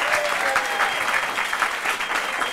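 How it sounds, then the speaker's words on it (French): An audience at a televised show breaks into dense, sustained applause, many hands clapping at once in a steady, full wash of sound. "Et là, paf, tout le monde applaudit"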